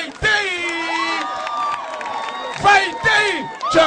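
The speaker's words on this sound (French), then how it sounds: "je vous demande de l'applaudir très fort, Madame Pallavi Kokane, alias Vadei." A lively crowd greeting an Indian film star arriving in Côte d'Ivoire, with loud shouts, whoops and cheering voices rising in bursts and no clear clapping.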